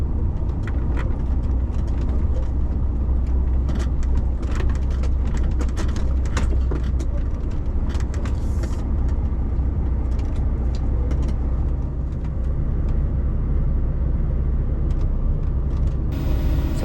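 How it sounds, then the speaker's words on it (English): A lorry pulling a trailer drives and manoeuvres along a countryside track, its engine a loud, steady low rumble throughout with occasional brief clicks and hisses on top. "I'm sure this is a lorry and not a tractor."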